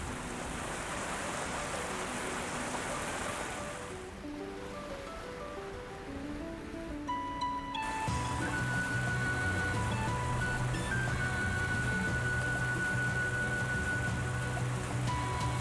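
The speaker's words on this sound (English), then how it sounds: "Rain." Heavy rain in the video game Ys X: Nordics, a steady rushing downpour that swells louder midway, under soft in-game musical tones and no speech.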